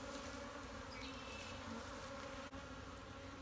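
Honeybees hum at an open hive during a spring split in Durango, Colorado, a steady, close, even buzz of many insects with no voices.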